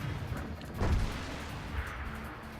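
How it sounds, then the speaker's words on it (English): Tank cannon shots traded between an IS-3 and a KV-5 in World of Tanks, heard as a couple of muffled booming blasts with one heavier thud near the middle. "Some shots exchanged there between Anladis and Soleg, IS-3 versus KV-5."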